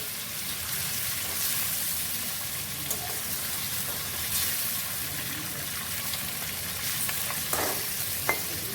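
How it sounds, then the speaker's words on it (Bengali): Pieces of hilsa fish are gently turned over in a pan of spiced oil, with a steady close sizzle and a few soft spatula clicks throughout. "এবার আমি চেষ্টা করছি খুব সাবধানে সাবধানে একটু এপিট ওপিট করে নেওয়া।"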